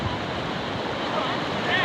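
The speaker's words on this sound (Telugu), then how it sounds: "ఇది వాగు ఉధృతి కదా అట్లా పెరిగింది." Swollen, flooded stream rushing at a crossing in Anumula village, Nalgonda district, Telangana, where vehicles and sheep try to pass; a steady, loud broadband roar of churning water with wind noise, continuous throughout.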